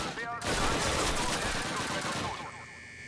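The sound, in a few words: gunshots in a video game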